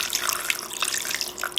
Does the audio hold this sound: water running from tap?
yes